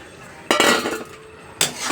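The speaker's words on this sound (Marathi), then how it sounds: "आता आपण टाकूया सोयाबीन" Soybeans are tipped into masala in a cooking pan, giving two short rattling clatters against the metal, close and fairly loud, with quiet in between.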